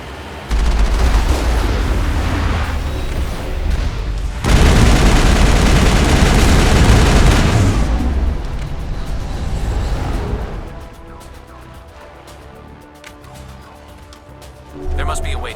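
Heavy artillery and gunfire in Mass Effect 1 on Virmire: loud, continuous explosive blasts with a dense barrage in the middle, then a quieter rumbling stretch before one more loud burst at the end.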